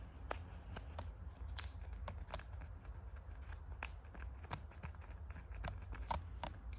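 A sheet of paper folded in three, heard as soft papery crinkles and light taps, faint and close in a quiet room with no talking.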